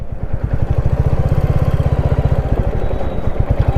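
A motorcycle engine idles after a 110-kilometre ride near Joypur Forest, its loud, steady low thumping close by and continuous throughout.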